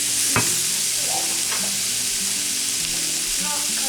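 Taco meat with taco seasoning and black beans sizzles in a pan while being stirred, a steady crackling fry broken by a few scraping spoon strokes, close and moderately loud, with no voices.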